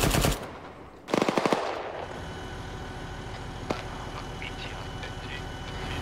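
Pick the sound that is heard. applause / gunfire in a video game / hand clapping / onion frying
gunfire in a video game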